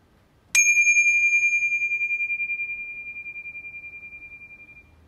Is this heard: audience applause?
no